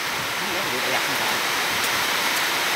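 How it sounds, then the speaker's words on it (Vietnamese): Heavy rain pours steadily at a construction site as a dense, even hiss with no breaks, and voices are faintly present beneath it. "Mưa luôn rồi cả nhà ơi."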